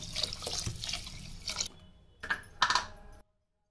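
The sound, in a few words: water poured into washed rice for biryani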